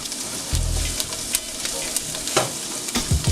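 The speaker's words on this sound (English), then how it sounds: "We're going to go ahead and hit our cup of Brunoise butternut squash" Finely diced butternut squash hitting a hot pan over medium-high heat for risotto, a brief thump followed by steady sizzling and scattered stirring clicks, close and continuous.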